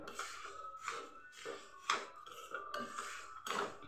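A spoon scrapes and knocks against a pan while lemon pickle and sugar are stirred over low gas, a series of clattering strokes in an irregular rhythm, close by and with no talking.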